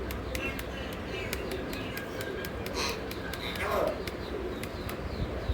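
Pigeons coo softly in a loft, with several sharp clicks and scattered bird calls over a steady low background.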